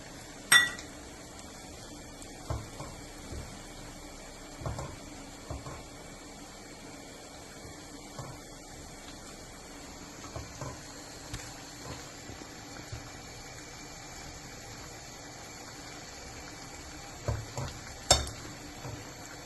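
A utensil stirring a pot of boiling mango sambar, with scattered clinks and scrapes against the pot over a low, steady bubbling background, fairly quiet throughout.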